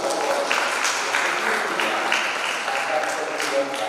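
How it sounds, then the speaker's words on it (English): School audience at a lab inauguration breaks into a round of applause, a dense steady patter of many hands clapping nearby at moderate loudness with faint crowd murmur underneath. "big round of applause."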